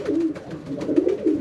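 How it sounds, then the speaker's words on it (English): A racing pigeon in a loft coos close by in soft, repeated throaty rolls with a steady rhythm. "It's a cracking wee pigeon this."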